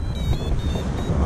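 Strong wind buffets a microphone on a mountain, a brief, loud, rumbling gusty roar.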